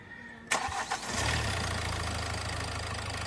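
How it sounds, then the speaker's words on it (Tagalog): A Hyundai Accent engine with a slow-running, overheating fault cranks briefly and catches, then settles into a steady, low idling rumble close by. "ipa-start ko na kay customer itong makina."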